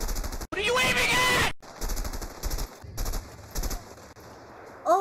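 Gunfire in the video game A Way Out, a loud rapid burst of shots followed by several more separated bursts, with a brief voice sound near the end.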